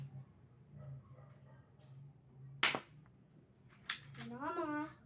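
A cheap pellet gun fires a single sharp snap partway through, followed by a short click, with quiet background murmur and a voice rising at the end.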